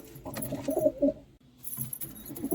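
A pigeon near its nest with eggs gives soft, low cooing calls in a short series, close by, then falls quiet briefly before faint rustling and another murmur.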